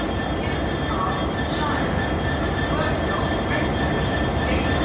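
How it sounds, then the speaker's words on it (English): A Freightliner freight train from Tunstead to Hunslet rumbles through Sheffield station in a loud, steady, continuous roar with a faint tonal hum running underneath. "That is the 1431 Freightliner service from Tunstead to Hunslet."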